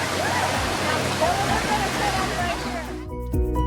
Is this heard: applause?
no